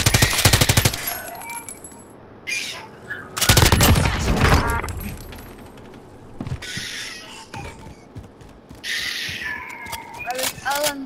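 Bursts of light machine gun fire in Call of Duty Warzone, rapid rattling volleys at the start and again midway, with scattered shots and game radio chatter between them.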